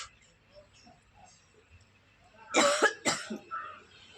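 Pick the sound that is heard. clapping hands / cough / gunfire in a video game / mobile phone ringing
cough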